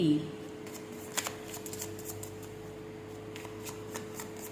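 Tarot cards being shuffled with soft rapid riffles and a few crisp card snaps in a quiet room, faint low hum beneath.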